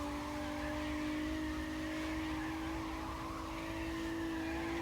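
Game-engine car drifting in CarX Drift Racing 2, a steady sustained tire squeal over a constant engine drone, loud and continuous with no talking.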